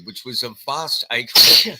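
A single loud sneeze bursts out right after a man's speech, near and sharp, with talking on either side of it.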